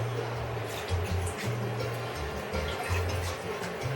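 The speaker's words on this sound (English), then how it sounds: "I'll pour some of these juices." Slow-cooked pork juices poured from a pot, a soft continuous liquid trickle and drip with low burbling, fairly quiet and close, heard alone.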